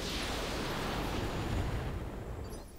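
Mech weapons firing in the RogueTech battle game, a leg shot from two guns at once, giving a sustained, loud roar of explosive bursts that fills the whole moment and fades slightly at the end.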